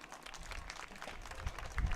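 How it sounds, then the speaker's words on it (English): Applause for athletes at a high school track meet, a steady patter of clapping from a crowd, moderately distant, swelling slightly toward the end. "Please give a round of applause for these two athletes."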